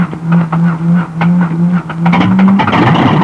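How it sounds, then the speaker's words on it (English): An old North American Aviation aircraft piston engine cranks and catches, its loud uneven firing pulses running steadily before rising into a fuller roar as it starts. "until the engine is firing smoothly."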